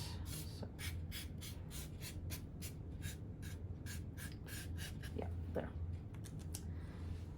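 Scissors cutting out a piece of material, a series of quick, faint snips in an irregular rhythm over low background hum, recorded close, with no talking.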